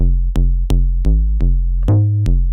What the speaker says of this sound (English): I've made this really nasty sub bass inside Vital.